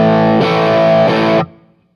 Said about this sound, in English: So there's the blues driver with the Boss graphic EQ.